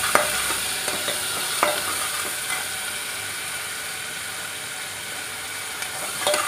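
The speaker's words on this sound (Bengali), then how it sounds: "মাছের চাটনির জন্য তেল নিলাম, আর ওই মশলা যেটা রাখা পেঁয়াজ," Onion, chilli and turmeric frying in oil for a fish chutney, a steady broadband sizzle with occasional sharp clicks of a utensil stirring the pan, close and continuous without any talking.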